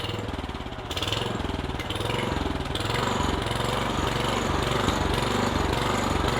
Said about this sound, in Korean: 조금 RPM을 올려 보겠습니다.